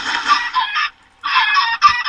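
Chickens squawk in the block-building video game SkyWars, two short bursts of harsh clucking separated by a brief pause, loud and up front.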